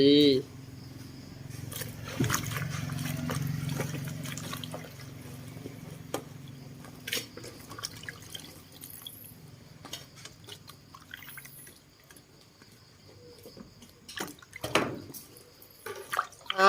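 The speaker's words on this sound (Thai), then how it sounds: "อันดับแรกนะฮะเราก็ต้องล้างเห็ดก่อนนะครับ" Mushrooms are rinsed under running water at a sink, with soft dripping and splashing that comes and goes while someone talks.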